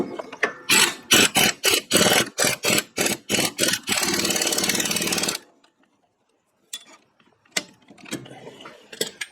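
An impact gun rattles in a rapid series of loud hammering bursts followed by a steady buzzing run, tightening a neoprene lock nut on a Cub Cadet steering repair, then a pause and a few scattered clicks and clanks.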